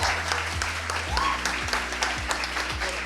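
A group of people claps steadily at an outdoor gathering, the applause mixed with a low rumbling background and recurring thumps, and some voices faintly underneath.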